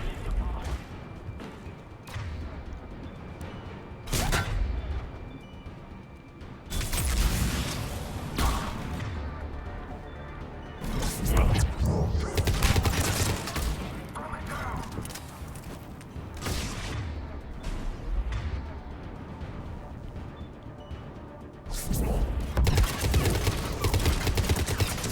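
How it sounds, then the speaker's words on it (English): Turret firing in Mass Effect 3 during a combat mission, repeated loud bursts of automatic gunfire in clusters between quieter stretches, mixed with battle noise and occasional talk. "I heard a turret."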